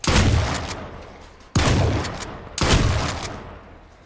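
Three loud, close gunshots from a .44 Magnum revolver in the survival video game H1Z1, each a sharp blast with a long decaying tail, spaced about a second and a half apart, with no talking.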